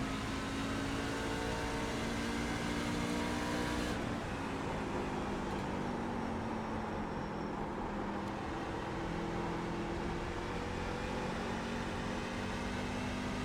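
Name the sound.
truck engine accelerating in iRacing video game, New Hampshire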